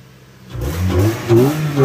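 A car on a 300 build accelerates hard through the gears, the engine rising in revs after a quiet start, dropping briefly at a shift and then surging again, loud and close.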